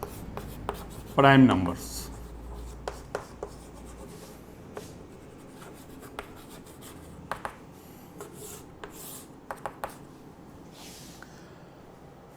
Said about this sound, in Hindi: जैसे एग्जांपल के लिए मैं पहले टॉपिक लिख दूं